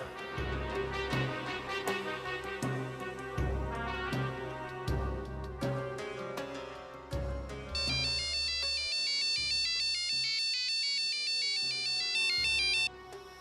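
A melodic phone ringtone plays for an outgoing call in a Bangla comedy drama scene, repeating its bright tune loudly over background music.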